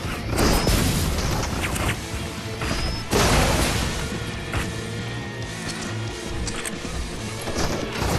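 Rockets explode in the video game Crossfire with loud booms and crashing impacts: a heavy blast at the start and another around three seconds in, then rumbling debris, mechanical clatter and smaller hits continuing over a dense battle backdrop.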